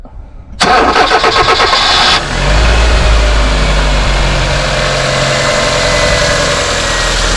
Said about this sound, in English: fire the engine up under its own steam without the chimney going, just so you can hear this engine